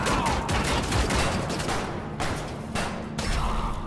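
Gunfire in the video game Wolfenstein The New Order: a dense, loud burst of rapid shots followed by a few separate sharp bursts, with no talk over it.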